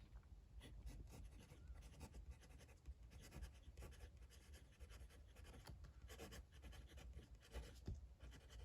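A Majohn M400 fountain pen writes on paper close up, producing faint continuous scratchy strokes with brief pauses between words, quiet and alone.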